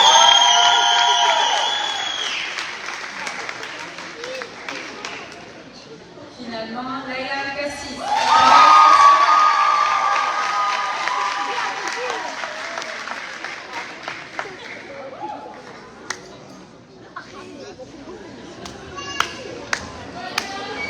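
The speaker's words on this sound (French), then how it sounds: "Applaudissons nos finissants du cégep." Audience at a cégep graduation celebration applauds and cheers the graduating students, a broad steady wash of clapping with voices and shouts mixed in, swelling midway and then thinning into scattered claps.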